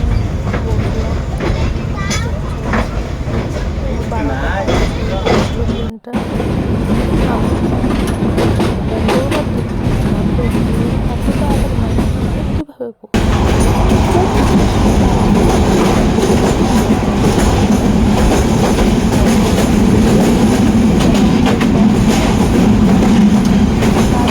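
The Agnibina Express passenger train runs on its rails for a long, loud stretch: a constant close rumble with rhythmic clickety-clack from the wheels, two brief dropouts, and a faint squeal late on.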